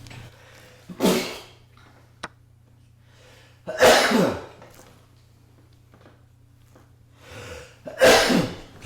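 Three sharp sneezes, each with a quick intake of breath, spaced a few seconds apart over a low steady hum, close and loud.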